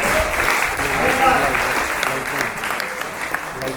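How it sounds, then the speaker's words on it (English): A quiz competition grand finale audience gives the teams a big round of applause, a loud, dense, continuous clapping that holds steady throughout. "All of you need to give a huge round of applause to all the teams"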